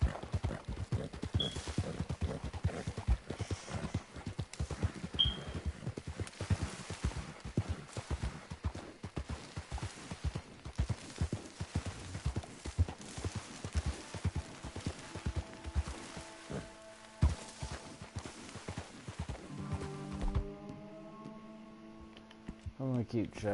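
Hooves clip-clopping as a horse is ridden in a PS4 video game, an irregular run of soft thuds for most of the stretch before it gives way to game music near the end.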